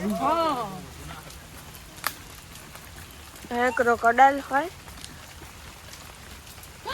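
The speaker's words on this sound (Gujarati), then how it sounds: "અત્યારે ફરીથી વરસાદ ચાલુ થઈ ગયો" Soft, steady patter of rain in Mombasa, Kenya in the background while a person speaks briefly at the start and again midway.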